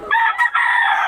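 Rooster crowing at a chicken market in Bocaue, a single loud, close crow with a brief dip mid-call before it carries on.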